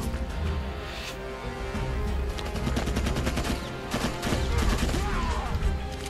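Gunfire in the Rambo video game: dense, continuous bursts of rapid automatic shots with sharp cracks, loud and close, running throughout.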